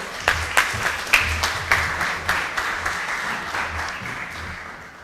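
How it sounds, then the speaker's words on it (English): A crowd applauds with steady clapping for several seconds at a summer tech camp closing ceremony, loudest at the start and gradually thinning out toward the end. "Let's give her a round of applause."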